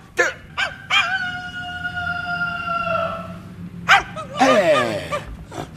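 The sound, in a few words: dog barking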